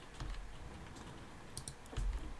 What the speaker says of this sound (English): If I hit Y on my German keyboard